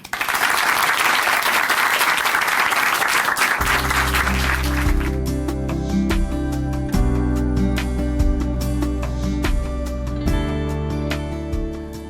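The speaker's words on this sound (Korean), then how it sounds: "춘천 한마음교회 정미정 자매님 박수로 모십니다." A church congregation applauds loudly for a woman from Chuncheon Hanmaum Church as she is welcomed to speak, and after a few seconds sustained music enters and continues beneath the fading clapping.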